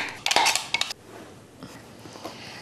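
A dish and utensils clink sharply a few times as part of a raw vegan basil sauce is transferred into a bigger dish. Quiet room tone follows.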